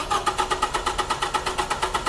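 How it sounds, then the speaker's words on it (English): Starter motor cranking an engine during a starter test, a steady fast rhythmic whirring with regular pulses about every quarter second, loud and close, with no talk over it. "Crank the engine"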